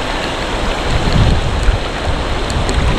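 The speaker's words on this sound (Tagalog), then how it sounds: "Sakto kasi nabasa na tayo ng ulan." Dense, steady hiss of rain falling on a surface on Sibuyan Island, Romblon, loud and continuous with no voices.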